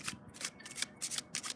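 A new deck of playing cards is shuffled by hand, a quick burst of crisp, papery flutters and riffling snaps, close and fairly quiet, heard alone.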